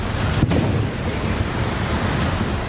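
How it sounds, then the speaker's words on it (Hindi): A swollen, flooding river in Kullu, Himachal Pradesh, roars as a steady, dense, loud broadband rush with no pauses, and a brief heavier surge appears early on. "ये तस्वीर हिमाचल के कुल्लू की है, जहां नदी अपने शबाब पर है। कल कल की जगह डरावनी आवाज सुनाई दे रही है"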